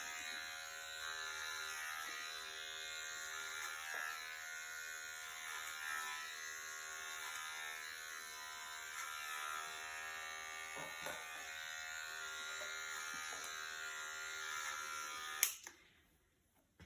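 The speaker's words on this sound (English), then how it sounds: "And when you're ready, then put your clippers on." Electric hair clippers buzzing steadily while cutting a man's hair, a close, constant motorized hum with small bumps in level, running alone for about fifteen seconds before switching off.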